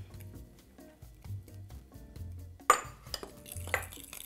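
A spoon stirs sugar and cornstarch into a cream mixture in a bowl, making soft scraping and light clinking taps, with a sharper clatter of utensil against the bowl near the end.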